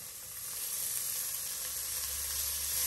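Braciola meat browning in a pan with pork about to join it, a steady close sizzle with a low hum underneath, constant and unbroken throughout.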